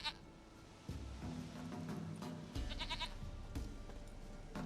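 A goat in the video game The Witcher 3 bleats in several wavering calls among other faint game sounds, fairly quiet and with no clear speech.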